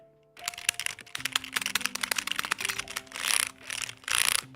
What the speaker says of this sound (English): But this keyboard is so nice. Listen to it.